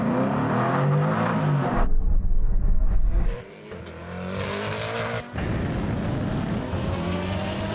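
A Koenigsegg launches off the start line in a drag race against a Tesla Plaid and a turbo Hayabusa, with loud engine revs and a roaring surge that cuts out, then a sharp renewed acceleration.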